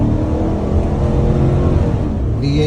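A brand new single-cab Chevrolet Silverado V8 pickup with about 5,000 miles accelerates hard, its engine roaring loud and close with a steady, rising growl throughout, no talking over it.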